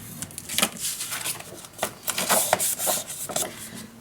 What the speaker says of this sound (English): Again, I'm gonna score 1/2 inch